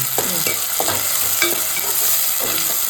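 Tempering spices, with onion and tomato, sizzle loudly in hot oil, a constant close frying hiss broken by a few scraping stirs of the pan.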